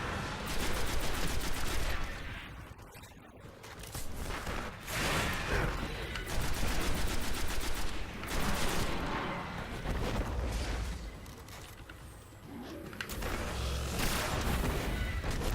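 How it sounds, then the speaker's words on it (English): Fusion rifle fire in Destiny, repeated loud charged bursts of energy-weapon fire with sharp cracks and explosive impacts, coming in clusters with short gaps amid the noise of a firefight. "my fusion rifle does seem to do the trick quite well"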